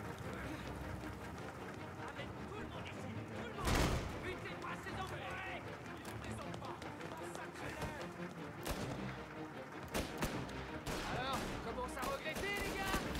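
Shotgun fire in the video game Mafia Definitive Edition, scattered sharp blasts with one heavy boom early and a quick cluster later, heard under near-constant talking.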